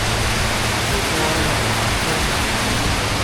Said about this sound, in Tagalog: Ito, lakas pa rin ng ulan.